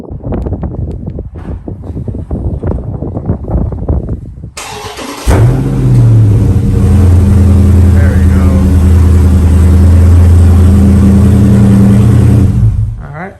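A widebody Dodge Challenger Scat Pack fires up from cold after some earlier quiet clatter, catching with a sharp roar and then settling into a loud, steady, deep rumbling idle that holds close up for about eight seconds before cutting off.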